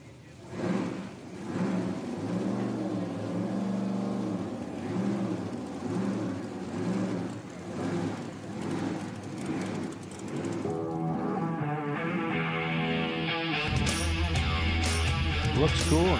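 Voices talk over a crowd and a low rumble, then powerful nitro drag race car engines fire up at Virginia Motorsports Park and hold a loud, steady roar nearby.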